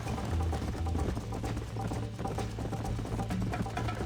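Horse galloping in Red Dead Redemption on PS5, a quick, steady clip-clop of hoofbeats at a moderate level, mixed with game sounds and no talking.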